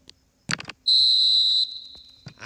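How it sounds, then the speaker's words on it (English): A referee's final whistle in an eFootball match: after a burst of crowd and commentary noise, one long shrill blast rings out loud and near, then tails off into a thinner tone over faint background sound. "And there goes the final whistle."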